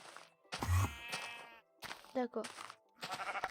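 Sheep bleating in a video game, a few wavering, drawn-out bleats spread across the moment, interleaved with someone talking in French.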